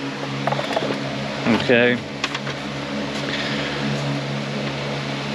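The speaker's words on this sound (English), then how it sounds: "We're going to start the engine, and we're going to adjust the idle speed with the throttle stop knob" A Honda Shadow VLX 600 motorcycle engine idles steadily after a carburetor cleaning, a low continuous hum running through the whole stretch while a voice briefly speaks over it.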